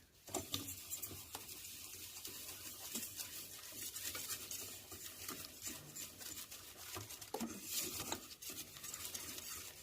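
A whisk beats sugar in a bowl for dessert custard, producing a steady, rapid clatter and scraping of wire against the bowl, close and continuous throughout with small louder bursts.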